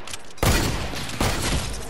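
Two loud, close gunshots from a video game shooter, each a sharp burst with a short decaying tail, about three quarters of a second apart.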